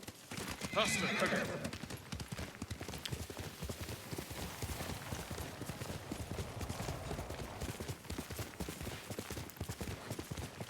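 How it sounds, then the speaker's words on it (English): A horse in a PS5 video game whinnies loudly near the start, then steady hoofbeats clip-clop on and on at a trot throughout. "The horse and his magic teleportation powers."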